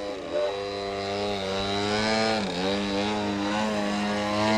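Propeller aircraft performing an air show maneuver with bursts of engine power, a droning tone that shifts in pitch, heard steadily and fairly near.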